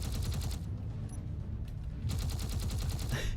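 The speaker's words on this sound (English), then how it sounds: "Fire all my turrets" Ship-mounted turrets in Space Engineers fire in fast rhythmic bursts, loud and steady, pausing briefly in the middle before another rapid volley kicks in.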